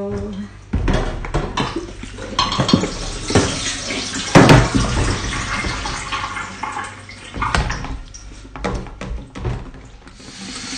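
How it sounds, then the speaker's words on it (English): Cold water runs from a tap and splashes over salted cabbage being rinsed for kimchi, with occasional knocks and handling sounds, steady and close. "we have to wash it off with water"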